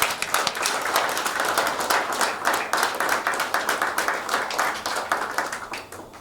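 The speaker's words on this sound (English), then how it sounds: "I really think that you deserve a very big round of applause." Lecture hall audience gives an enthusiastic round of applause, dense and rhythmic clapping that holds steady for several seconds before tapering slightly at the end.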